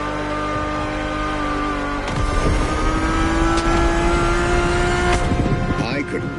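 A car engine in The Crew Motorfest racing game holds a loud, steady drone and then lifts in pitch as it revs harder, with no talking over it.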